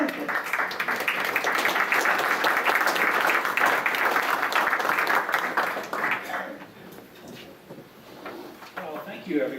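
A crowd at a conservation awards reception claps loudly and continuously, then the applause tapers into scattered claps near the close.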